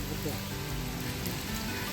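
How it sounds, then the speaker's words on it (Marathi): Heavy rain pours on the mountain fort of Harishchandragad as a dense, steady wash of noise, with a voice faintly under it. "इथं आल्यावरती मात्र पाऊस जोरात चालू आहे"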